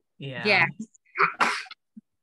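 A single person sneezes close up with a breathy build-up and burst, then a short voiced sound and a second quick sneeze-like burst.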